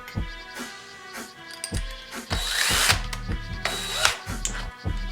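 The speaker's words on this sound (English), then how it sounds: "Get a big drill bit like this" A power drill whirring loudly with a large bit, revving in bursts and bogging down as it bites into antler, with brief pauses between pushes.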